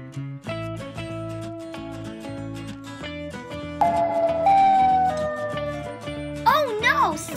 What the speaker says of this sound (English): Oh no! Siren Head is here again